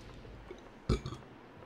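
A single short burp, close and fairly loud in an otherwise quiet setting, with a small trailing mouth sound after it.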